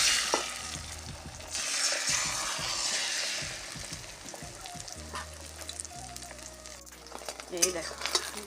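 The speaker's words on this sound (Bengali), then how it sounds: "এই দেখো ডিমটা ভাজা হয়ে গেছে" Eggs seasoned with salt, turmeric and chili powder fry in a pan with a steady sizzling hiss, broken by clinks and scrapes of stirring, heard up close and moderately loud without any talk.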